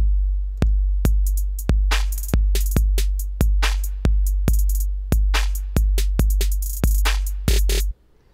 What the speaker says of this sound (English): And then with the drum loop over it, it sounds like this.